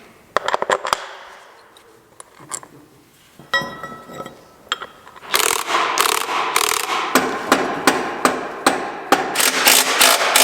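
A wheel mount is tightened down with shims on new farm equipment: sharp metallic hammer strikes and clinks, first a few scattered hits, then a long run of loud, evenly spaced blows close by.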